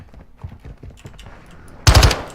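Video game gunfire: a few soft thuds, then a sudden, loud, close burst of rapid automatic fire near the end.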